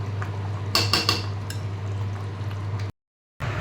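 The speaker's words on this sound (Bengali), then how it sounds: "এবার কষাচ্ছি। তবে বেশ জল উঠেছে, একটু সময় লাগবে।" Chicken simmering and sautéing in a pan with plenty of released water, a steady close bubbling sizzle with a few metallic clinks of a spoon against the pan, over a low hum and without talking.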